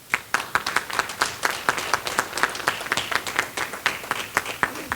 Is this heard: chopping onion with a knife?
no